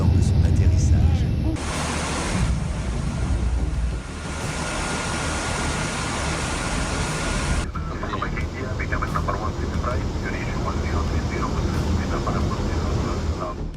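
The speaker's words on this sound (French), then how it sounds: "Un avion en proie à des problèmes mécaniques dérape hors de la piste lors de son atterrissage." A passenger airplane with mechanical problems skidding off the runway while landing at San José airport, heard as a loud, steady roar of engine and rushing noise that fills the whole stretch without letup.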